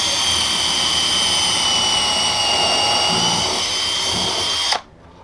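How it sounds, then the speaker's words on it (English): A power drill boring a hole into a small camper runs at a loud, steady high pitch, close by, for several seconds before cutting off abruptly. "we're going to drill a hole in this nice"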